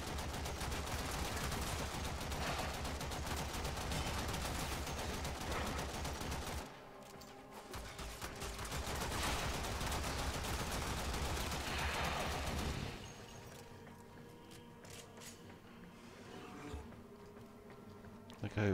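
Rapid sustained automatic gunfire in the video game Warframe, dense buzzing bursts that cut out briefly, resume, then drop to quieter scattered shots, close and loud.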